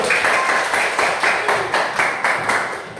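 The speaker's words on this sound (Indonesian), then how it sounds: "Oke, tepuk tangan untuk kelompok 1." Classroom students clap for group 1 in a steady, rhythmic beat, loud and near, with regular bursts of synchronized hand claps repeating through the whole stretch.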